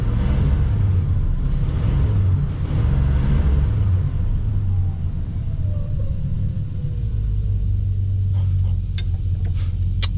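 A small block car engine idles after starting, a deep steady rumble up close that settles down, with a few faint clicks near the end and no talking.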